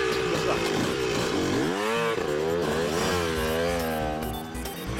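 Cartoon motorbike engine revving in an animated kids' comedy, a loud whining buzz that rises and falls in pitch over several seconds, with no talking.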